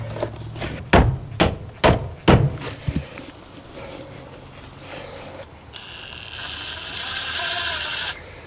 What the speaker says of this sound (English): I'm pretty much just going to hammer them in